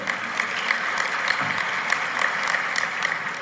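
An audience at a religious talk in Canada claps together in a dense, sustained round of applause that holds even throughout, with no speech.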